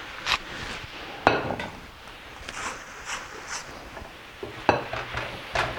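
Utensil scraping and clinking in a pan of green beans with bacon and onions, a few sharp knocks and scrapes spaced irregularly over a quiet background.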